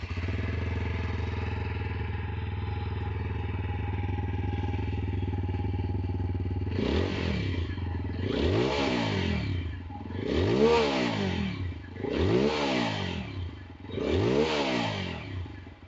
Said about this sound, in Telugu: అపాచీ 164 ఒక ఎగ్జాస్ట్ నోట్ అనేది విందాం. So let me turn it on